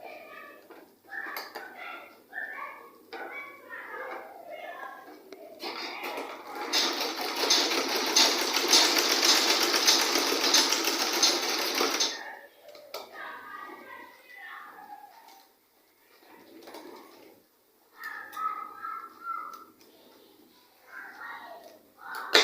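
A sewing machine runs in one steady, close stretch of several seconds while joining the shoulders of a simple A-shape gown, with someone talking before and after the stitching.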